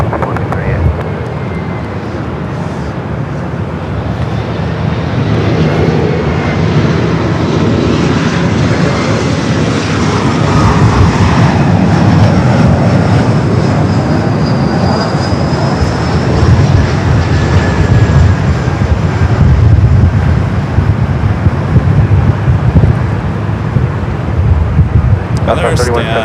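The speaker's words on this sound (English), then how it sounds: "runway 24 left, clear for takeoff." An airplane takes off from runway 24 Left at Los Angeles International Airport, a loud sustained engine roar building steadily over the whole span, with wind buffeting the microphone and talk heard over it.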